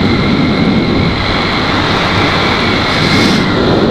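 Strong wind roaring steadily against a moving motorcycle on a cold evening ride home, a loud, constant broadband rush with no pauses.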